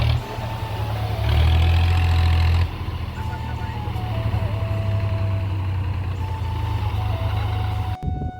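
A farm tractor's engine runs close by with a heavy, steady low rumble and a sustained whining tone, continuing for several seconds with shifts in load.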